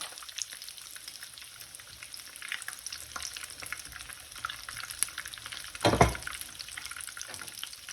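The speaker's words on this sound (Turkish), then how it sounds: "Böyle çevire çevire pişirmek daha güzel." Cordon bleu chicken fries in oil with a soft, steady, close sizzle, and a brief louder rustling burst comes as a piece is turned over.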